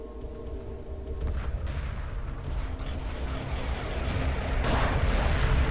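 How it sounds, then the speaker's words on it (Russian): A supernova explosion erupts during a space battle in the video game Homeworld Remastered, a deep rolling rumble with crackling blasts that swells steadily louder over several seconds. "Взрыв суперновый просто. Такой эффект добавили."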